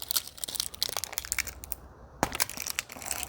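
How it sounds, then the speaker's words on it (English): A black clay bar for car detailing is torn apart by hand, giving close, soft crackling and crunching with a few sharper snaps, brief and quiet, with no talking. "we're just gonna go ahead and tear a nice, beautiful chunk off the top"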